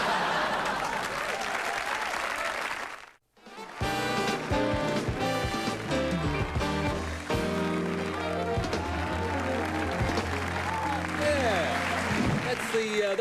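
Studio audience applause on a live Australian television talk show, a full, steady wash of clapping from a crowd that fills the room, with a brief drop to silence before a dense, loud burst that carries on under music-like tones.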